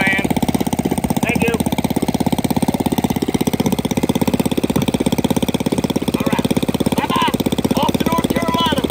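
A small gas-powered go-kart engine, built compact enough to carry onto a plane, runs steadily and loudly with a rapid, even buzzing pulse throughout, close by, while people talk intermittently over it.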